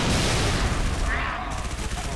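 Gunfire in Halo ODST during a street firefight, loud dense bursts and booms crowding a short stretch, with a voice talking over the shooting.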